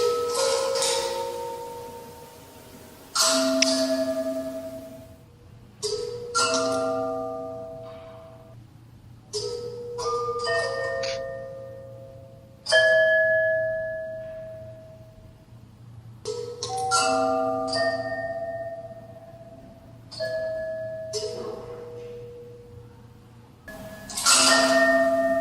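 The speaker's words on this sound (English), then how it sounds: "driving solenoids, which are hitting these custom hand-blown glass bells" Custom hand-blown glass bells are struck by solenoid-driven piano hammers, ringing out in scattered clusters of bright, clear chimes that each decay slowly, repeating over about twenty-five seconds above a faint steady hum.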